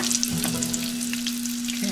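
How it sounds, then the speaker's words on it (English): An apple fritter sautéing in coconut oil in a pan gives a steady, close sizzle and crackle with a constant hum behind it, with no one talking. "where it's actually sauteing, not much of a deep frying, but it's more than enough."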